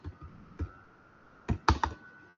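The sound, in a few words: typing on a computer keyboard while writing Python code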